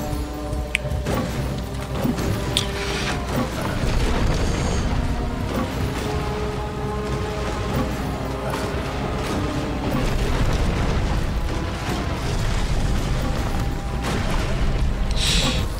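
Siege weapons batter and smash castle walls in an Age of Empires castle siege, a dense, continuous din of booming impacts, crumbling masonry and clanking mechanisms over game music, steady and loud throughout.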